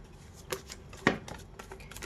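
Tarot cards being shuffled by hand, a few quick soft riffles and slaps, close and fairly quiet, with no speech.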